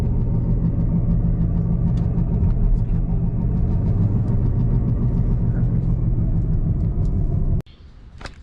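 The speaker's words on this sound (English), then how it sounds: "if your car sounds like this, chances are your wheel bearing's probably bad." A 2006 Chevy Cobalt SS with a bad front wheel bearing gives a steady, loud rotational rumble and drone while driving, continuous for several seconds before cutting off abruptly near the end.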